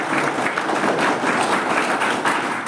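Audience clapping for guests at a Mission IAS gathering in Ranchi, Jharkhand, a dense, continuous wash of many hands applauding at steady loudness with no pauses.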